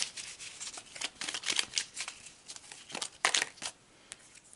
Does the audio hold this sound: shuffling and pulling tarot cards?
yes